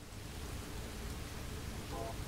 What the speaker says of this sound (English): I need to turn the rain sound down.